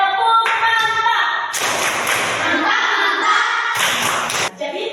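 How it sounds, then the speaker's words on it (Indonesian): A classroom group gives a rhythmic round of clapping for a student named Gresia, in loud bursts of hand claps with short pauses between them and voices briefly audible. "mari kita beri tepuk tangan untuk Gresia. Tepuk mantap."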